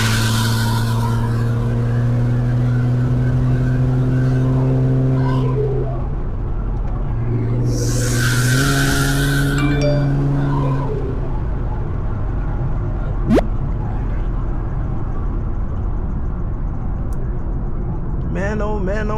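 An Infiniti Q50S fitted with turbos and aftermarket intakes rumbles and revs from inside the car, the engine note rising and falling through gear changes with bursts of intake noise, and occasional talk over it.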